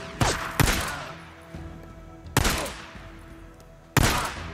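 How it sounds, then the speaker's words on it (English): Gunfire and grenade blasts from enemy attackers in Days Gone: sharp shots and booms land in separate bursts, each one trailing off into a fading reverberant tail, with no talking. "they're throwing nades too"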